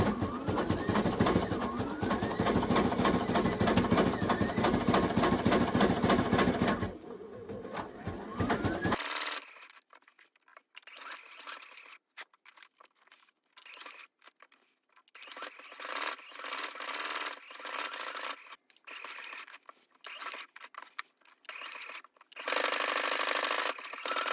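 A Baby Lock Sashiko sewing machine stitches a quilt with a steady, dense mechanical whir running for several seconds, then stopping, with quieter intermittent taps and a brief return of the whirring motor at the end.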